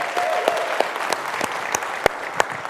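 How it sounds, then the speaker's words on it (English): Audience at an industry conference applauds the organizing committee, a steady wash of clapping from many hands with a few louder individual claps standing out, and no talk over it. "I would like everyone to give a round of applause to the EMAR Supermitting Committee"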